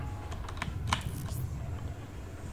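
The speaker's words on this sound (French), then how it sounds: "c'est normal, c'est un clavier mécanique" Keystrokes on a mechanical computer keyboard, a handful of sharp clicks in the first second over a steady low hum, then a continuous background drone with no further clear taps.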